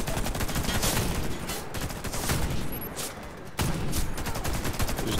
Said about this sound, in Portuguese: O cara tá atirando no bagulho.